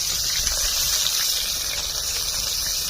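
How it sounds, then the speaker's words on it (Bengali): Boiled lentil dal is poured into a hot pan holding fried fish heads, making a loud, continuous gushing hiss that runs unbroken for three seconds. "বন্ধুরা কড়া গরম হয়ে গেছে, ডালটা ছাড়া দেবো।"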